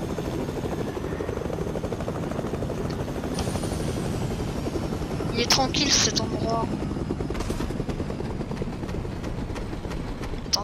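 A Fortnite helicopter's rotor chops in a continuous loud, rapid rhythm, with someone talking over it.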